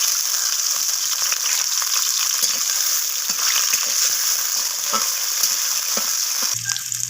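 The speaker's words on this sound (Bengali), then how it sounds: "এরপর ওর মধ্যে কেটে রাখা উচ্ছেগুলোকে দিয়ে দিচ্ছি। তো উচ্ছেগুলোকেও লালচে করে ভেজে নেব।" Cut bitter gourd pieces sizzling and crackling steadily in hot mustard oil, a continuous close frying hiss with occasional stirring clicks, no voices.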